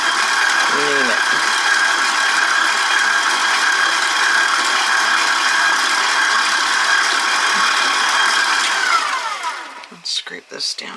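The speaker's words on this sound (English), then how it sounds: "These mixers with the dough mixer make life a lot easier for an old woman." An electric stand mixer with a dough hook works bread dough in a home kitchen, giving a loud, steady mechanical whir with a rattling, ratcheting edge that runs without a break for about nine seconds, then slows and stops.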